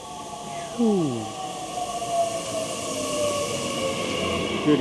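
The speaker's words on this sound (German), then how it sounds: "Da kommt unser Zug" A train pulls into a station, its rumble rising as high squealing wheel and brake tones glide downward, steady and fairly close throughout.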